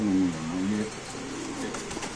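Pigeons at a pigeon market give a brief, faint coo at the start, followed by a low murmur of market background.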